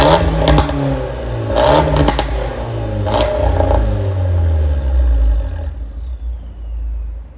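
A modified Fiat 124 Spider Abarth engine revs and falls back, its exhaust crackling and popping with sharp burbles between throttle blips, loud and close before settling into a low rumble.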